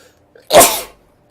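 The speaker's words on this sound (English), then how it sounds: "I'm going to sneeze because of all that foam." A single loud sneeze bursts out sharply after a brief quiet intake of breath, then fades quickly into silence.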